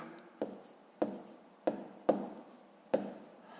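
A pen writes numbers by hand on paper while working a fifth-grade long division exercise, in five short scratchy bursts spaced about half a second apart, quiet and close, with no speech.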